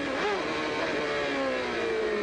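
IndyCar race cars at Detroit in 1994, a Penske with an Ilmor engine and Nigel Mansell's Lola Ford, give a steady, loud, high engine drone with rising and falling harmonic tones.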